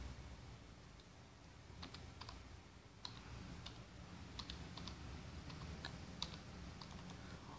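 Someone types a router password on a computer keyboard: a faint, quiet run of irregular key taps with occasional sharper clicks over low background noise.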